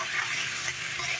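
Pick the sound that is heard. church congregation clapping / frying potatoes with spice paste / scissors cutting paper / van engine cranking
frying potatoes with spice paste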